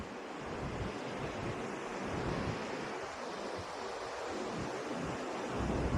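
Sea waves rolling onto the Konkan coastline near Karde and Ladghar beaches, heard from a high viewpoint: a steady, broad wash of surf with gusty wind noise over it, continuous and fairly even throughout.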